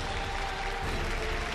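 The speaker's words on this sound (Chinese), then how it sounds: "掌声有请" A studio audience at a Chinese relationship-mediation TV show breaks into steady, dense applause to welcome a young couple onto the stage. The clapping is continuous and even throughout, with no voices over it.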